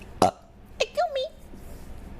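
A single short, sharp burp from a VTuber streamer sounds close to the microphone, followed by a brief vocal murmur.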